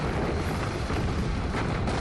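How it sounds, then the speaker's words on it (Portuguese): Dense, continuous barrage from a warship's 52 anti-aircraft guns, booming blasts merging into a loud, rumbling roar with no pauses. "a fortaleza de aço abre seus 52 canhões antiaéreos"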